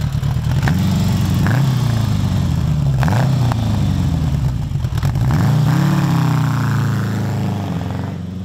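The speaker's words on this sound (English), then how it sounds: "exhaust note on this thing" A 1979 Honda Goldwing GL1000 motorcycle revs up close, its loud flat-four exhaust note rising and falling in several throttle blips before settling into a steady idle, with no talk.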